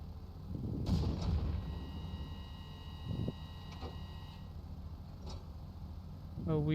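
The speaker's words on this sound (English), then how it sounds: "Let me actually shoot the bridge." A gun in the game Stormworks fires at a bridge with a heavy boom followed by a second thud a couple of seconds later, over a steady mechanical hum, with a voice speaking faintly at times.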